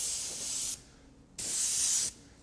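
An Eclipse bottle-feed airbrush sprays Marbleizer silver pearl paint fairly wet onto plastic in two close, steady hissing bursts, separated by a short pause.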